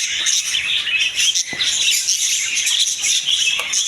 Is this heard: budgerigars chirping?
yes